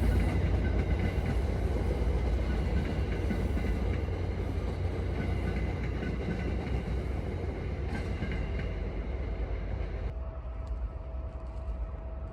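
A train rumbles steadily past on the rails near Boston's North Station, a continuous loud roar with faint clatter, easing slightly near the end.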